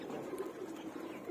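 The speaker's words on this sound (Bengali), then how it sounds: "আমার কবুতরের পাশাপাশি দেখেন বামে কত পাখি বসে আছে।" Pigeons coo softly in a low, murmuring run of calls, faint and somewhat distant, with no talk.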